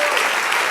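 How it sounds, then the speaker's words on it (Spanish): Church congregation applauding during a Spanish-language worship service, a short burst of loud, dense clapping from many hands. "Otro aplauso al Señor"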